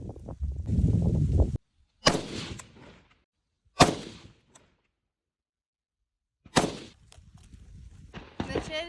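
Rifle shots fired through a Tikhon silencer on a 16-inch-barrel sporting rifle at a shooting range: three or four sharp, muffled reports spaced a couple of seconds apart, with a low rumble under the first and brief quiet gaps between.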